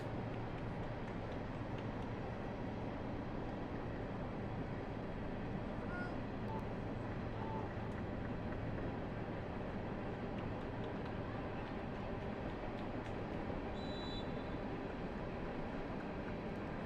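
A train rolls along a nearby track beside a high school boys' varsity soccer game, a steady broad rumble held for the whole stretch with faint speech now and then.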